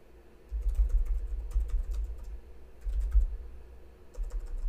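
Steady typing on a computer keyboard, a close run of quick soft key clicks with brief pauses, over a low hum, with no talk.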